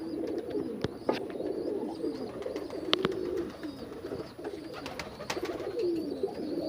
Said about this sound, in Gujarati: તો ફાઇનલી મિત્રો બધા કબૂતર અંદર વયા ગયા છે